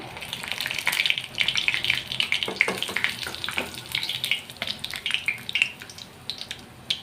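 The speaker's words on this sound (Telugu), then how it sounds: "ఆయిల్ వేడైంది తర్వాత వచ్చేసి ఆవాలు కొంచెం ఎండుమిర్చి" Cumin, mustard seeds and dried red chillies crackle and sizzle in hot oil for a tempering, with steady frying hiss and scattered sharp pops, close and moderately loud, no talking.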